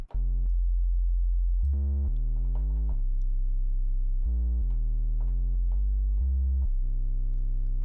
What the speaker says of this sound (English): We've got a nice instant deep bass that we can use in our productions that's evolving